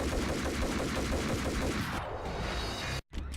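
Gunshots in the video game Max Payne, a rapid string of sharp repeated shots over about two seconds, then a brief gap and one more burst.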